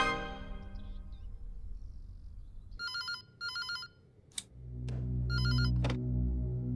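A telephone rings in repeated double bursts, clear and fairly loud over a low ambient background with no talk during the ringing.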